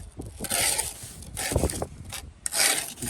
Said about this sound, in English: just back pointing it until the joints are filled, and you can feel it on your trowel